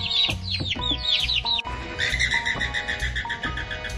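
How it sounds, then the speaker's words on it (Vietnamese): A baby chick cheeps in quick, high chirps at the start. Fowl clucks and more bird calls continue over a rhythmic music backing. "chú gà con"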